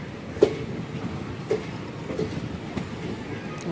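Gita Jayanti Express passenger train pulling slowly into Panipat station in the evening, with a faint steady rumble and a few soft wheel clanks and knocks spaced across the stretch.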